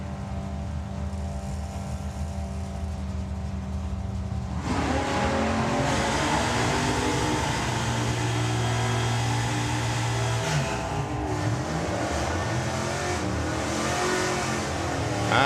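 A Mustang and a dragster race down a drag strip at a nationals event, their engines roaring loud and sustained, rising in pitch as they accelerate, then a sweeping pass and a fading roar at the end.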